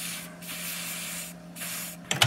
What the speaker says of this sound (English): And then we'll spray the other side because you can see it's completely dry here.